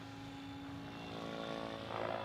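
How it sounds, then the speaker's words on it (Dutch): A radio-controlled scale model helicopter flies a looping in Nijswiller, giving a steady, moderately loud motor and rotor whine that holds its pitch and swells slightly toward the end. "Een schaalhelikopter"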